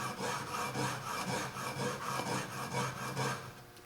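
A hoof knife's hook being sharpened by hand, a steady rasping scrape repeating in even strokes about every half second, close and moderately loud with no talking.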